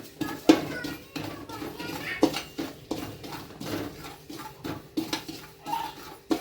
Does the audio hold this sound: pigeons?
no